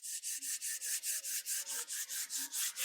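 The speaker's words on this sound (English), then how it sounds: "rub your hands together" Hands rub together briskly in a steady rhythm of about a dozen close, soft swishing strokes, with no talking over them.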